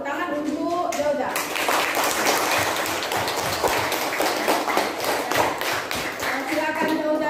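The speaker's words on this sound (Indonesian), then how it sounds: "Tepuk tangan untuk Jauja." A classroom of students claps together for a classmate, steady dense clapping that starts after a brief spoken moment and continues for several seconds, with a voice audible near the start and end.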